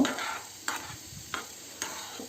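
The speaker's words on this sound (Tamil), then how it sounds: "திரும்பவும் இப்போ லேசாக கலக்கி விட்டுக்கலாம்" A spoon stirs sambar in a cooking pot in four slow, evenly spaced strokes, each a soft scraping swish over a quiet background.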